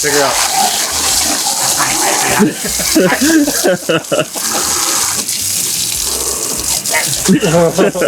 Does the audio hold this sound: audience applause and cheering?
no